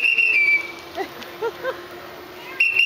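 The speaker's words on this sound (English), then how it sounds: "Got a whistle." Sharp, high whistle blasts at an indoor hot rod gathering, one short toot at the start and another at the end, with faint voices and room noise in the gap between them.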